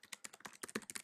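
Rapid keystrokes on a computer keyboard entering a new field name into a database form, about a dozen close, crisp taps in an uneven burst with no voices.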